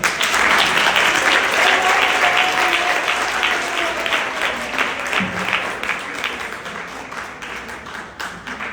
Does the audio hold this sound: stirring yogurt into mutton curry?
no